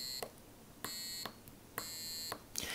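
Arduino piezo buzzer on a homemade digital piano project playing Happy Birthday, a series of shrill electronic beeps in a halting melodic rhythm, each note held briefly with short gaps, close and fairly faint.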